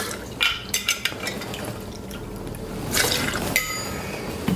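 Two ounces of bourbon are poured for a Milk Punch cocktail: a soft liquid trickle and splash with a few light clinks, moderately quiet and close, with no talking.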